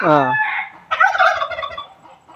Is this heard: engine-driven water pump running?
no